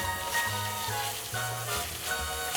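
Garlic sizzles in a hot pan for a pot-roast beef dish, giving a steady, close frying hiss that runs unbroken the whole time with no voices.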